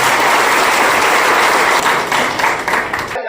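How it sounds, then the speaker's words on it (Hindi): A ceremony audience breaks into steady, sustained applause that fills the space loudly and continuously before it fades and cuts off abruptly at the end. "मैं आप सबको विनती करता हूँ उनके लिए एक जोरदार तालियां"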